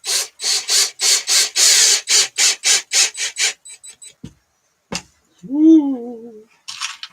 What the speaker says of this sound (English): Will I drill through into my bench?